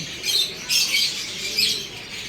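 A pair of budgerigars give sharp, high squawks and chirps in three quick bursts, close and moderately loud, with a faint background hiss between calls.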